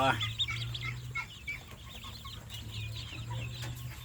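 Two-day-old ducklings on a farm in Roi Et, Thailand, a dense flock giving continuous rapid high peeps, close and fairly quiet over a low hum.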